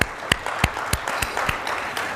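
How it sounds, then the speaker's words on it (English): Conference audience applauding Uganda's delegation after the bureau election: a short burst of loose, separate hand claps, close and fairly sparse, with no talking. "A round of applause for Uganda."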